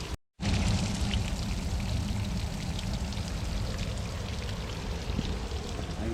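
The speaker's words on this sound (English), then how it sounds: "That is the secret waterfall, the Rocks of Solitude." Waterfall pouring over rocks at the Rocks of Solitude in Scotland, a loud, steady broadband rush that starts abruptly after a brief silence and continues unbroken, heard close with no talking.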